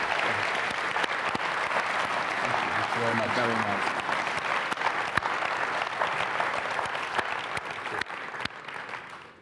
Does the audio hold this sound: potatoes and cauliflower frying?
no